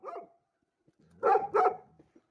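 Dogs bark fairly close by in a quiet outdoor setting: one short bark, a pause, then two quick loud barks in a row, followed by a faint trailing yelp.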